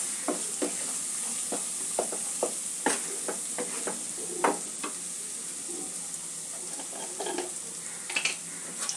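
A spice mixture with Kashmiri chilli powder sautéed and stirred in a pan for egg curry, a soft continuous sizzle broken by repeated short spoon scrapes and taps, close and without speech.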